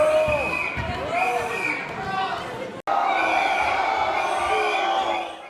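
A crowd at a protest over a planned emergency housing centre in Paris's 16th arrondissement, with many voices shouting and booing over one another. It stays loud and continuous, broken by one brief cut partway through.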